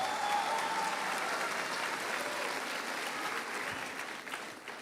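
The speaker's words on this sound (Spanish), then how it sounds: "denle un aplauso al Señor por eso" A church congregation applauding, a dense and sustained wash of clapping from many hands in a large room that holds steady and tapers slightly toward the end.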